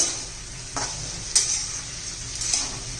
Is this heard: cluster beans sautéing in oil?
yes